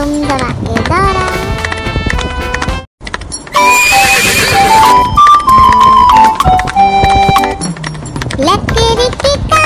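A horse whinnies loudly and hooves clip-clop in a steady trotting rhythm, set within a bouncy Hindi children's nursery rhyme with music and a singing voice.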